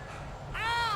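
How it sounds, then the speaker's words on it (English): Crows caw in the video game Alan Wake, a short burst of harsh, repeated calls that swells suddenly and grows loud halfway through after a quieter ambient stretch. "I hear the birds getting louder though."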